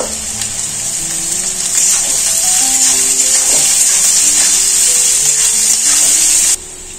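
Sliced onions fry gently on low heat in a pan, giving a loud, even, close hiss with faint stirring bumps, steady for several seconds before dropping off abruptly.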